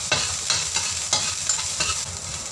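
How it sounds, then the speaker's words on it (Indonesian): Minced garlic sizzling in hot oil in a wok, with a few rhythmic scraping stirs of a utensil every half second or so, close by. "Kita panaskan wajan dengan minyak, lalu kita tumis bawang putih cincang."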